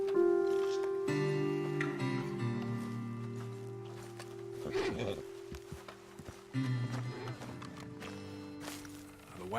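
Horses' hooves clip-clop on the ground in Red Dead Redemption 2 as a rider dismounts and the horses move off, with a snort or whinny under a steady musical drone, moderately close.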